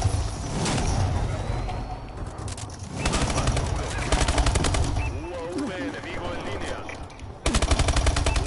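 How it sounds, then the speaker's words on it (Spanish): Rapid video game gunfire rattles in long automatic bursts, loud and nearly continuous, with a heavier burst at the end. "Tonto disparando antes de verme"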